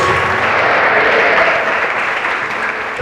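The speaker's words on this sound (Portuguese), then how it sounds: "Pode aplaudir a palavra" A church congregation applauds loudly after a Bible reading, a dense, sustained roar of clapping that holds steady and fades slightly toward the end, with no speech over it.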